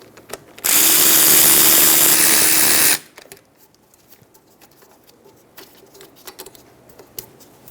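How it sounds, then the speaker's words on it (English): A tool spins out a rear brake caliper bolt on a 2010-2014 Subaru Outback. A loud, steady whirring burst lasts a little over two seconds, followed by quieter clinks and small handling noises. "Using a 14mm wrench, remove the 2 caliper bolts."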